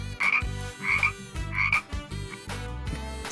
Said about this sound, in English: Frog. This is a frog.